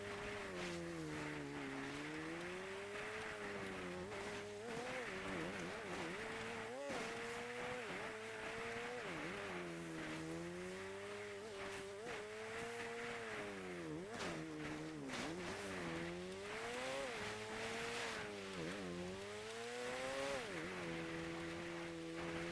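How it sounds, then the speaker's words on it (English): Dirt bike ridden off-road in GTA V, its engine droning steadily with rising and falling revs throughout, loud and continuous, with faint game sounds underneath. "Hop on this dirt bike and follow the same route that I take. Take a right and go off-road"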